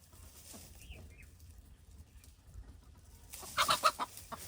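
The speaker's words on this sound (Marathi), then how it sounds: "काय कोंबडी धर, काय कोंबडी धर तिला." A chicken clucks softly in a quiet yard, with a short louder burst of clucking near the end.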